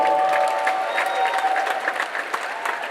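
A crowd applauds Professor Opoko Ajiman at a Ghanaian gathering, steady loud clapping filling the room for three seconds with scattered sharp individual claps and a faint tonal hum underneath.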